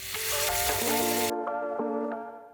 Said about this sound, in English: fry the pork belly again with the fat